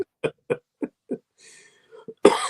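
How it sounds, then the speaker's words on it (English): A man coughs in a steady series of five short, evenly spaced coughs. Faint voices and a few small sounds follow, then a louder burst. "Now he's got me coughing."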